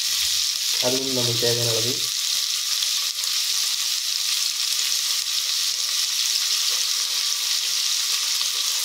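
Curry leaves crackle and fry in hot oil with a steady, close sizzle throughout, and a voice speaks briefly near the start over the frying.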